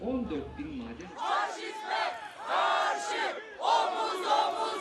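A crowd shouts in unison outside a newspaper building in Turkey, rhythmic angry chanting bursts repeating loudly after a brief voice at the start.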